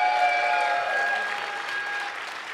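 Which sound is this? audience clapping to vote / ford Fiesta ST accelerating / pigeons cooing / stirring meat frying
audience clapping to vote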